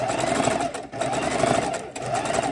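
A longarm quilting machine runs steadily across quilt fabric with a continuous motorized hum and slight rhythmic pulsing, fairly close and loud.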